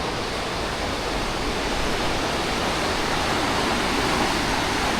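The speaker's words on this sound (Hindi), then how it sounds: "ये पानी की लहरें इस मस्जिद की जो शान है उसे दुबाला कर रही हैं।" Water waves wash near a mosque on the coast of Casablanca, Morocco, a dense continuous roar of surf and spray that holds steady and loud throughout with no voices.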